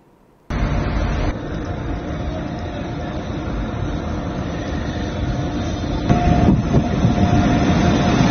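A train on the Kashmir railway line during a trial run gives a steady, loud rumble of wheels and carriages, close and continuous throughout, swelling slightly near the end.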